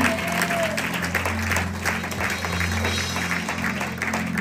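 Worship congregation clapping steadily and cheering together to acclaim the Lord, a dense, continuous wash of applause filling the room with an organ-like sustained tone underneath, with no gaps.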